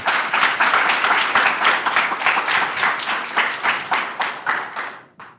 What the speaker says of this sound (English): after we hopefully get some applause, we'll take any questions you guys have